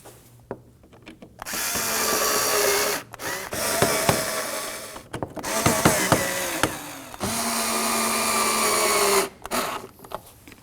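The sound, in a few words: power drill tightening Phillips screws on Kia Sorento grille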